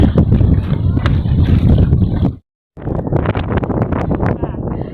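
Strong wind buffets the microphone with a gusty roar at Hundred Islands, Alaminos, Pangasinan, cutting out briefly midway before the blustering resumes.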